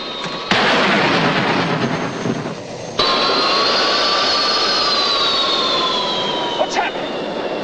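Airliner jet engines whine and roar in flight, a loud sustained rushing drone with a steady high-pitched tone running throughout the cabin, shifting abruptly partway through.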